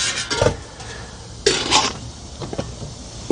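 Pathfinder camping pots and a pan are handled and nested together, giving a few sharp metallic clanks and knocks spaced irregularly over a few seconds, close and fairly loud.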